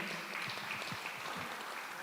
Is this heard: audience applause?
yes